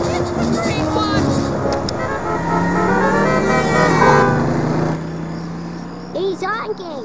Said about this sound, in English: He's honking!